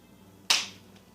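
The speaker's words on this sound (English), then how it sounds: "Take one at the hand clap in 3, 2." A single sharp hand clap used as a sync mark while recording a compact forend for a Kel-Tec Sub 2000, one crisp close transient with a short decay.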